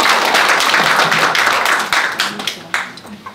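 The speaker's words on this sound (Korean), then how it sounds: "큰 박수로 맞아주세요" Audience clapping at a Buddhist university club presentation event welcoming a student speaker; dense, loud applause that thins out toward the end with a few scattered claps.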